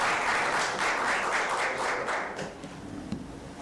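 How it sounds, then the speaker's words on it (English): An audience applauds at a meeting, a burst of brisk clapping that is loud at first and then thins out and fades over a few seconds. "They weren't clapping for you, Mike, they were clapping for me"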